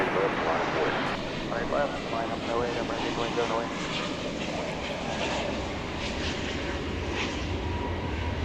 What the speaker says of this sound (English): Spirit Flight 2357 from Las Vegas, Airbus A321 Neo